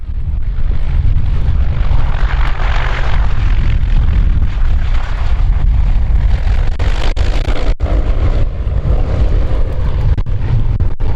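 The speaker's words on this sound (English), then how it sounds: "This C-123 was landing in a crosswind when its right wing dove toward the ground." A C-123 cargo plane landing in a crosswind, with loud continuous engine roar and heavy wind buffeting throughout, close and harsh.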